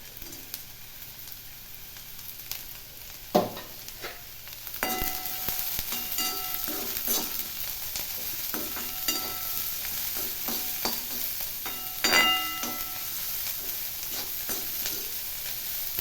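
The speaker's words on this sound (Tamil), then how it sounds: "வெங்காயம் நல்லா வதங்கட்டும்" Snake gourd and onion sautéing in a pan, a low steady sizzle punctuated by repeated scraping and knocking strokes of a spatula against the pan.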